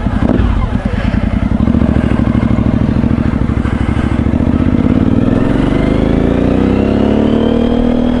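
A motorcycle ridden during the Sync the Planet 2016 ride event rumbles loud and close, its engine held at a steady throbbing pitch before revving higher as it accelerates.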